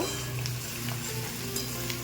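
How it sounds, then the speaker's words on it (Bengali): Grated ginger being stirred into onions frying in a pan, giving a steady close sizzle with faint scraping of the spoon, no voices. "দিয়ে দেব এক চামচ মতো গ্রেট করা আদা একটু নাড়াচাড়া করে নেব"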